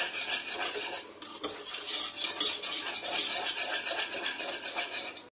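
Thickening milk for kalakand being stirred in a pan over low flame, a rhythmic scraping and rasping of a spoon against the pan bottom, close and steady with no talking.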